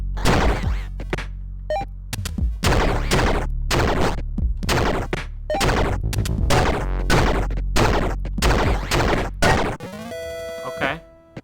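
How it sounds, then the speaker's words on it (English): Rapid, loud bursts of explosions go off in quick succession in an indie video game as enemies are destroyed, a dense barrage of booms and crashes, followed by a brief electronic tone near the end. "we can kill the enemies with our explosions"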